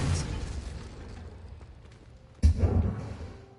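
In the Hogwarts Legacy video game, a Confringo spell blast lands as a sudden, loud single burst after quieter combat noise, then fades over the next second.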